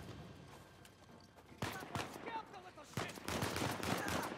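Sniper rifle and other gunfire crack through an Uncharted 4 firefight, with several sharp shots and a dense burst of fire toward the end, mixed with game ambience.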